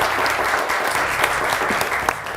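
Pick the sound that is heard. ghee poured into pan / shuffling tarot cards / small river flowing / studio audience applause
studio audience applause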